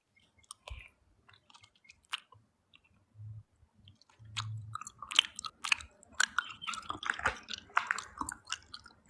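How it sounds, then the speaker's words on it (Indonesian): Someone eating close to the microphone, slow scattered bites at first, then dense wet chewing and crunching clicks in an irregular rhythm, quiet and intimate with no talk. "suara ngunyah lu tuh kayak ASMR"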